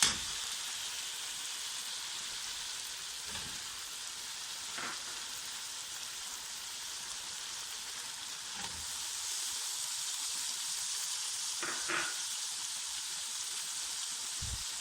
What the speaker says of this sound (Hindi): और यहाँ पे हमारे चिकन फ्राई हो चुका है। अब इसमें आलू, गाजर डालेंगे।